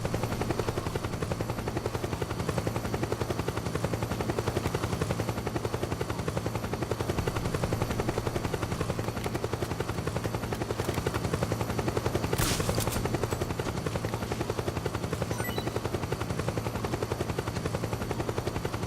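A military helicopter in the Metal Gear Solid 4 video game gives off a continuous rotor drone that stays steady and fairly quiet for the whole stretch, with a brief burst of sharper noise midway.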